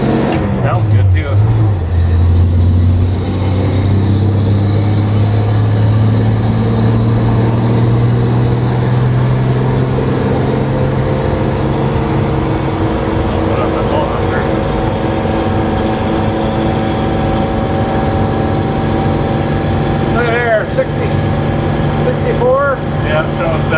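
A 1952 Chevrolet pickup truck engine humming steadily while driving down the road, a loud continuous drone with road and wind noise, and people talking over it throughout.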